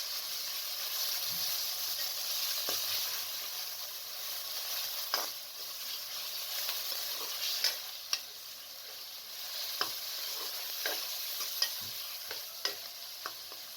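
Minced keema fries in a pan with onions while a spoon stirs it, a steady close sizzle broken by sharp scraping clicks and taps of the spoon against the pan.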